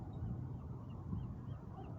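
Birds calling near Morro Bay, faint scattered honking chirps over a steady outdoor wind and water rumble, distant and soft.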